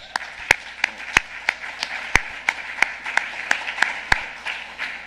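A small audience at a plenary gathering claps for the National Parole Transformation Project team, a sparse, uneven scatter of distinct hand claps spread over several seconds.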